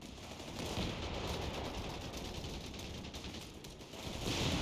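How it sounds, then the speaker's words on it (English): Sustained rifle and machine-gun fire from a World War II strategy game battle in the Operation Torch setting, a dense crackling fusillade that runs steadily throughout the clip, loud and continuous, with no talk over it. "Rifleman opening fire on Bursaleri."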